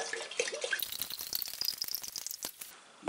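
Liquid is poured into a two-litre jar while making macadamia liqueur, giving a faint splashing, trickling stream with light rattles over about three seconds.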